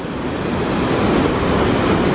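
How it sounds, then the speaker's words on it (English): Rushing water at Rogie Falls, a waterfall in the Scottish Highlands, roars as a dense, continuous broadband wash, loud and steady with no voices. "we're at the waterfall, Rogie Falls"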